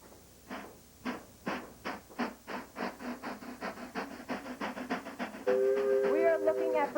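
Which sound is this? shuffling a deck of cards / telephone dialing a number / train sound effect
train sound effect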